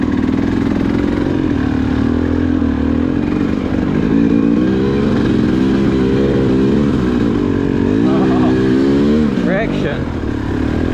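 A motorcycle rides along steadily, its engine droning loud and close with rising and falling revs and wind noise throughout, and a voice comes in briefly near the end.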